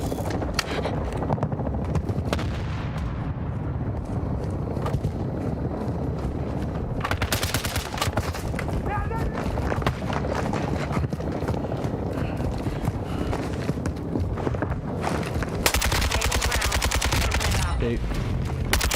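Gunfire in Call of Duty Warzone, a battle royale video game, crackles in dense, continuous automatic bursts that stay loud for the whole stretch, with a mechanical rumble underneath.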